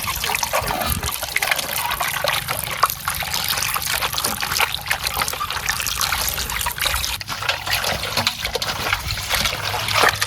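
Water is poured over small pieces of boti (goat intestine) meat during village cooking of boti curry, a steady splashing trickle that runs continuously for about ten seconds at close range.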